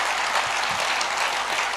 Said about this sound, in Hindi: इतनी ताली बजी, डबल सुनानी पड़ेगी